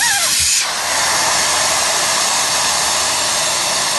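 Loud, continuous hiss of air rushing out of a tire valve with the core removed, steady and close, after a brief squeak at the start.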